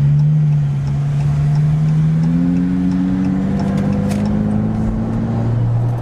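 Modded Chrysler 300 accelerates through a tunnel, its engine note climbing steadily in pitch and booming with tunnel echo, loud and close throughout with no talk.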